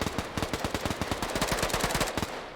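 Rapid automatic gunfire from a World War II French Resistance video game rattles in a steady, loud burst of evenly spaced shots lasting over two seconds, with no talking over it.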